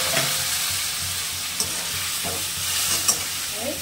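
Spices with turmeric and chili powder and a splash of water sauté in oil in a pan for an egg curry with potato and cauliflower; a dense, close sizzle runs throughout, marked by a few soft spatula scrapes and taps.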